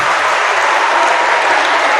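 A school assembly audience gives a volunteer a round of applause, a dense, loud and even wash of clapping from a large crowd that holds steady throughout.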